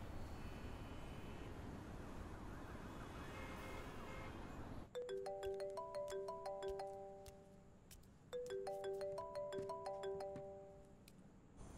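A phone ringtone plays a bright repeating melody twice, after a stretch of quiet background noise.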